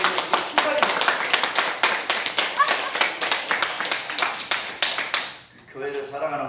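A congregation at a Daejonggyo religious service claps in a dense, steady burst for about five seconds before it stops abruptly and a voice follows.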